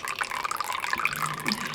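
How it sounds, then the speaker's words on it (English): Old, dirty engine oil drips and trickles from a BMW E46 330ci engine, a thin continuous splattering liquid stream with small irregular drops, close and fairly clear. "So how about we leave it dripping for a couple of days and let it drain out"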